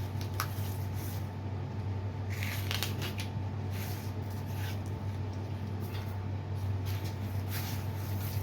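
Carpet being cut for a 1951 Chevy truck hot rod install, a steady scratchy, rasping cutting texture with a few brighter snips over a constant hum, continuous and fairly close throughout.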